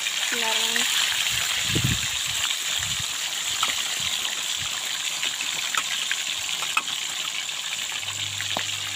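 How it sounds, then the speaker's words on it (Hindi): Fish half-frying in very hot oil for a restaurant-style fish karhai, a steady hissing sizzle throughout with occasional bubbling pops and a voice talking over it. "हमने फ़िश फ्राई जो थी वो हमने हाफ़ फ्राई कर लिया है"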